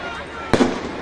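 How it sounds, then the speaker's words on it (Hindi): Fireworks go off from rooftops during a public welfare day event in Bhopal: one sharp, loud crack bursts out over a steady background of crowd and loudspeaker noise. "आतिशबाजी जो छत पर से आप सब खुशी के इस पर चला रहे हैं"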